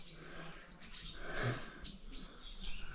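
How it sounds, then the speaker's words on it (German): A parrot in an Amazon village gives a short, bright call amid steady outdoor chirping and insect noise, moderately close and with no talking over it. "Vor allem so ein Papagei."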